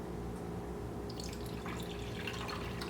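Water poured from a cup into the reservoir of a home drip coffee maker, a steady trickling pour with light splashy dripping that grows busier toward the end, close and moderately quiet.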